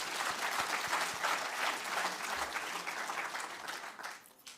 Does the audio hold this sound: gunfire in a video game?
no